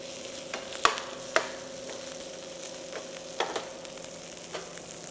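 Onions with ginger garlic paste fry in a pan for a seer fish masala, a soft steady sizzle broken by a few sharp clicks and scrapes of a stirring spoon, with no talking.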